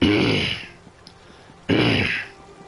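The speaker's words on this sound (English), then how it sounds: "excuse me while I clear my throat." Someone clears their throat twice, two loud close rasping bursts separated by a brief pause, with faint background sound between them.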